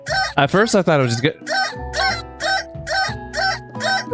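Chicken alarm clock in the video game I Love You, Colonel Sanders, a loud run of repeated clucking bursts in a steady rhythm, with a voice briefly talking over the start.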